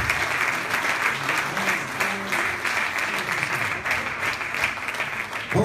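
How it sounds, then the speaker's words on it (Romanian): Sustained applause from a crowd at a school talent gala in Romania, honoring the winners of a competition section; steady dense clapping throughout, moderately loud and continuous. "Aplauze, vă rog, pentru toți câștigătorii de la această secțiune."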